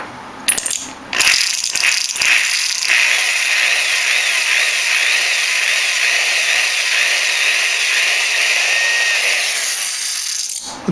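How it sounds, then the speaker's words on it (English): A few clicks and knocks, then a power drill whines steadily for several seconds, its pitch wavering slightly as it bores a pilot hole into wood. "The pilot hole doesn't have to go all the way through, it's just to mark it."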